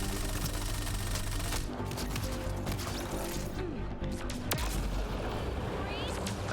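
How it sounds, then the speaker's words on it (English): Explosions and gunfire in the video game Mass Effect: Andromeda, a dense, continuous roar of blasts and shots that stays loud throughout, with sharp impacts near the middle and a crackling battle din underneath. "Oh, the explosions."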